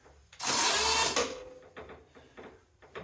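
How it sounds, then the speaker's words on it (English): A milling machine power drawbar tightening a collet, giving one loud burst of pneumatic whirring for under a second, followed by several quieter clicks and knocks. "I don't know if I like the power drawbar."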